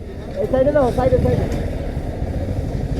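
A motorcycle idles with a low, steady engine rumble while it is being parked, close by, with people talking over it.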